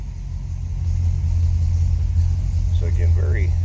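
A 1955 Ford Customline sedan engine runs at a steady low rumble, close and continuous, with a faint voice briefly heard near the end.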